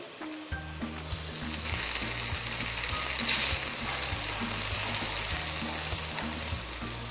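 Potatoes frying in oil in a pan, a continuous close sizzle and crackle over a low steady hum, with no speech over it.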